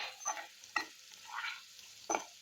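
Garlic with asafoetida and fenugreek powder sautéed in a pan for onion thokku, with a few soft scraping stirs and a faint sizzle, close and quiet, no voices.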